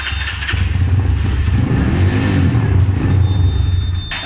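A motorbike with a phone-controlled anti-theft device cranks and fires, its engine running loud and near for a few seconds before cutting out abruptly.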